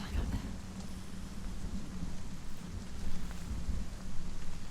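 Video game rain falls steadily on a gray evening, with low rolling thunder rumbling underneath and swelling in a few heavier surges.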